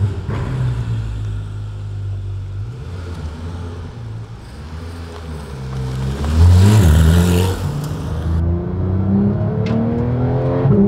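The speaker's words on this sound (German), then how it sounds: "man hört schon, wir sind jetzt mit dem GT3 auf der Landstraße unterwegs" A Porsche 911 GT3 of the 991.2 generation drives along a country road, its engine droning up through the gears and then surging into a louder rev partway through, heard from inside the car.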